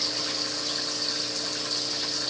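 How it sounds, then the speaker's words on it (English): Water rushing steadily through the return pipes of a 220-gallon aquarium, a continuous broadband hiss and gurgle at constant level with no pauses, heard close up without voices. "The noise you hear in the background is coming off my return pipes."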